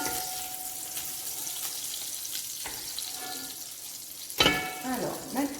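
Shrimp frying in a pan give a soft, steady sizzle, with clinks and a louder burst of spatter and movement toward the end.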